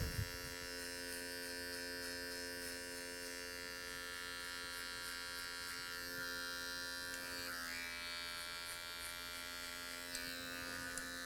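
Electric hair clipper cutting close during a medium skin fade, a steady buzzing hum running the whole time at close range with slight shifts in tone, with no talking.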